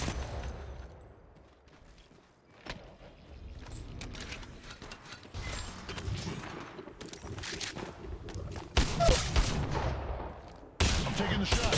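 Bursts of gunfire from the battle-royale game Apex Legends, sharp shots and rapid fusillades coming in clusters, fairly close, growing denser toward the end with a brief pause before a final volley.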